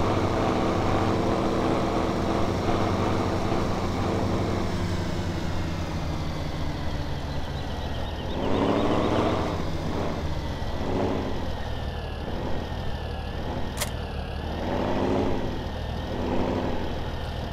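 Tractor engine pulling uphill in the Farming Simulator game, a steady low drone with a laboring rumble that swells in rhythmic surges through the second half, no talking.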